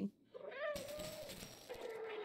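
A single cat meow from the video game Stray, a drawn-out falling tone, then a sustained tonal game sound over faint background noise; quiet overall.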